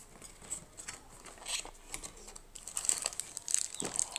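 Nokia 2720 Flip retail box packaging being opened by hand, with light cardboard scrapes, crinkles and small clicks in short irregular bursts, close and fairly quiet, no voices.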